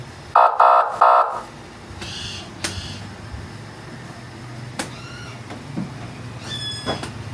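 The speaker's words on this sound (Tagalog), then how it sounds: "Pag pinindot niyo yung selector switch, yung siren o yung frog horn," Three loud electronic horn blasts from a Yamaha NMAX V3 police scooter's siren and frog horn sound in quick succession up close, followed by scattered short chirps and beeps over quiet background noise.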